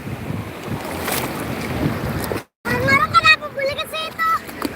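Steady wind noise and surf at Ulee Lheue beach in Banda Aceh, on the western tip of Sumatra, roaring close against the microphone with a brief dropout midway, while faint voices come through beneath the rumble.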